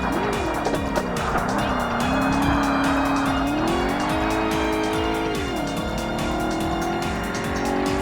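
Racing cars in Forza Motorsport (2005), with engines whining up and down in pitch and tires squealing through corners, a loud, continuous mix of motors and skidding.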